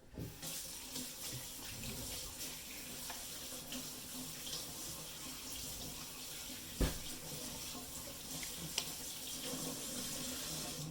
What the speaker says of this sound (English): I want to wash them, rub them off, whatever.